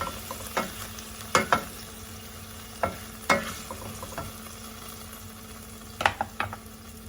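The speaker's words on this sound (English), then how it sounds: "Just let it cook a minute so that it cooks the alcohol off of it." About a quarter cup of wine bubbles in a saucepan for an Alfredo sauce, a soft steady sizzle close by broken by several loud scraping stirs and utensil knocks, with no talking.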